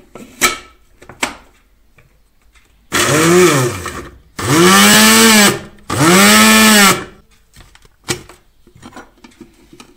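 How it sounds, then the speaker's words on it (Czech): Three loud bursts of a blender grinding oak galls to powder, each starting with a rising whine and holding steady for about a second or two, separated by brief pauses and small clattering sounds. "zkusíme duběnky rozmixovat v mixéru na prach"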